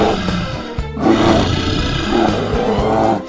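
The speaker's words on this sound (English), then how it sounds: "Bear." A bear lets out a sustained, growling roar, loud and near, rising and falling over a few seconds with no voices.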